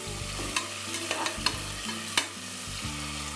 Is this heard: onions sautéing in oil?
yes